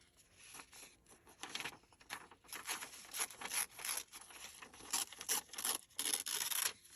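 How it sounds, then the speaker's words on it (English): Paper is torn by hand during a fabric flip-and-tuck insert craft project, a series of dry, rasping rips in quick bursts, close and fairly quiet, with no voices. "this paper rips nicely"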